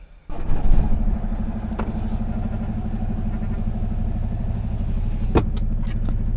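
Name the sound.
semi truck engine cranking and starting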